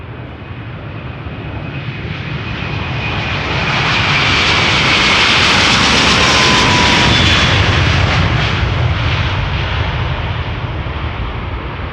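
A Delta Air Lines airliner departing Amsterdam Schiphol Airport on a sunny morning gives a loud jet roar that swells over several seconds and then holds steady and close, with no talking.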